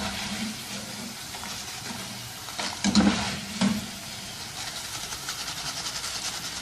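Homemade potato chips frying in hot oil, a steady close sizzle with a few louder scraping stirs of a steel spoon in the middle.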